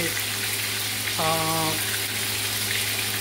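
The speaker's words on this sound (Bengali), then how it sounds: "তো অনেক হিটে কিন্তু মাছগুলো ফ্রাই হচ্ছে।" Bhetki fish frying over high heat on an electric stove, giving a continuous close sizzle and crackle with a brief tonal whine partway through.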